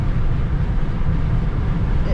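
Heavy low rumbling buffet of wind across a microphone outdoors on a road trip between Nebraska and Wyoming, steady and loud throughout, with a voice faintly present beneath the roar.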